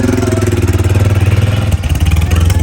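A motorcycle engine runs loud and close, with a steady low throbbing idle that briefly dips and then picks up again as the bike moves off in the rain.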